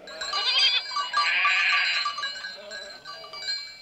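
Goat named Pie in a Heidi cartoon gives a wavering, harmonic bleat, loud and close, stretching through most of the moment with a brief dip midway and no talk over it.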